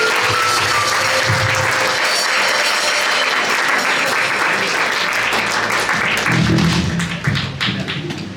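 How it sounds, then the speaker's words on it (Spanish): A church congregation gives strong, sustained applause, a dense wash of clapping that stays loud for several seconds. A low tone hums beneath it, and the clapping thins slightly near the end. "Démosle un aplauso fuerte al Señor"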